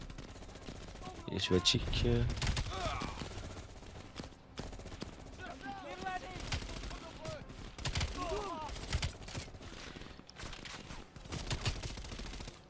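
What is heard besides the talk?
gunfire from a weapon in Call of Duty Black Ops video game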